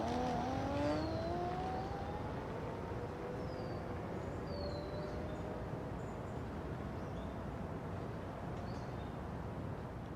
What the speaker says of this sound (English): this is pulling the throttle back on single mode, taking off from standstill on mode 2